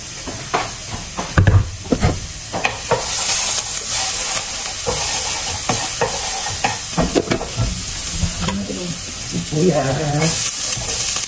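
Garlic fries in a hot pan with a constant broad sizzle, broken by scraping stirs and clacks of a utensil, and a brief voice murmurs partway through.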